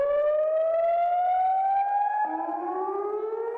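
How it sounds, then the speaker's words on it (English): A loud tsunami warning siren sounding the nightly curfew, a single sustained wailing tone slowly rising in pitch with a second lower tone joining partway through, steady and unbroken. "every night at 9 p.m., the tsunami siren goes off, signaling that no one is allowed out of their homes"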